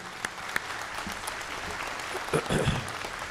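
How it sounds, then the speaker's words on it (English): Sustained applause from a university doctoral commencement audience, a dense wash of clapping with a few sharper claps standing out, continuing throughout. "So why don't we give a round of applause to all of you here."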